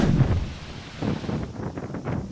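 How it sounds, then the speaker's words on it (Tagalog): Gusty wind from Typhoon Kristine in Isabela buffets the microphone in rumbling surges that rise and fall, loud and close, with a rushing background roar and no voices. "Maririnig pang tila pag-ugong ng hangin."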